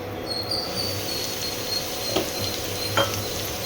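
Potatoes go into hot oil with fried chili, and a steady, even sizzle fills the pan, with a few faint clinks of a utensil partway through.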